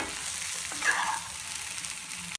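Aloo capsicum curry of potato and bell pepper frying in a pan, a soft continuous sizzle with a brief scrape of stirring near the middle and a faint clink at the end.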